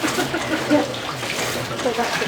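Water pours and splashes as it drains out of a JonBuoy recovery raft being hauled up during a demonstration, a steady rushing wash with people talking over it.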